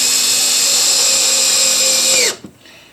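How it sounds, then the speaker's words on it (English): A power drill driving a screw into a prep bench, a loud high whine held steady for about two seconds, then winding down abruptly with a short clunk as it stops. "drill it right onto my prep bench"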